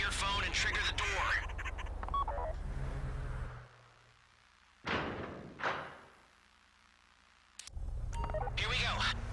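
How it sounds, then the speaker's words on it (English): A phone dials to trigger a vault door during a heist in a video game: a short dialing tone, then two heavy thuds in a quiet gap, with game noise and busy sound before and after. "Take out your phone and trigger the door."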